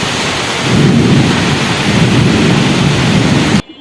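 Heavy thunder rolls and rumbles through a daytime rainstorm, loud and continuous over steady rain for most of the clip before cutting off abruptly near the end; no voices.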